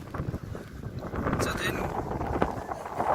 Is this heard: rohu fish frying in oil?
no